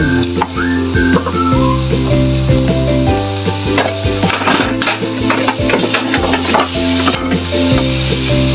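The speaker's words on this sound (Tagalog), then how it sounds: "Haluin natin. Ating sisig." Homemade sisig sizzles loudly in a pan while a spatula stirs and scrapes through it, with steady frying hiss and repeated clattering strokes throughout, and no voices.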